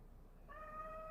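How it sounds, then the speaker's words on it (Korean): A pet cat meows indoors in one clear, drawn-out call that starts about halfway through and holds steady to the end, close and fairly loud against a quiet room. "저희 고양이가 자꾸 말을 거네요."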